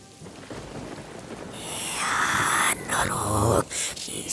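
Steady rain hisses loudly on a surface, building after a quiet start, with a low rumble of thunder and brief gaps in the downpour.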